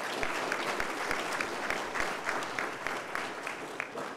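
Faint, steady audience applause at a town hall on California's opioid crisis, with many hands clapping at a distance in a dense, even patter throughout the short stretch.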